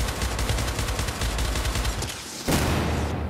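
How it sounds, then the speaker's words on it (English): Dense, continuous gunfire from the video game Syndicate, rapid bursts layered into a loud, steady fusillade with a sharper blast near the end. "Somebody's really shooting stuff at me."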